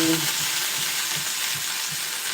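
Onion, ginger and garlic fry in a pan with an even, continuous sizzle close by, faint periodic stirring beneath it and no voices.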